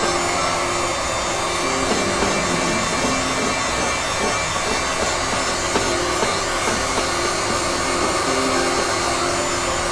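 A heat tool blasts hot air over shellac on layers of acrylic paint with Jacquard gold metallic spots, a loud steady blowing whir running unbroken for ten seconds with no talk.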